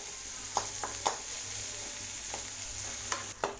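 Small-chopped onions and ginger being sautéed in a pan over a medium flame for tomato chutney. A soft, steady sizzle runs throughout, with a few sharp clicks of a spoon stirring against the pan.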